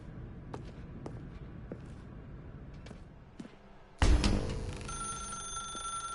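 In The Stanley Parable, a telephone rings several times in a quiet room, sharp repeated tones at a steady pace, followed by a sudden loud burst of sound and a lingering hum.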